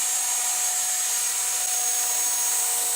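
An Ares Optim 300 CP RC helicopter coming in to land on a road, giving a steady, high-pitched electric whine with a constant tonal hum that holds evenly throughout.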